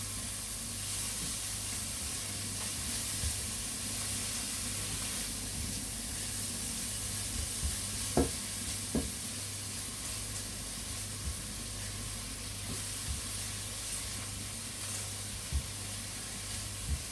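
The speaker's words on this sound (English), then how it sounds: "you just want to cook them until the onions start to soften" Onions fry gently in a pan with a soft, steady sizzle and hiss and a few faint stirring taps, heard close and without talking.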